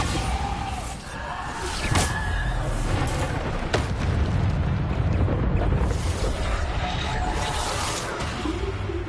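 Bombarda blasting-spell explosions in Hogwarts Legacy: loud, booming blasts and rumbling impacts amid busy combat noise, filling the whole stretch with dense, continuous roar.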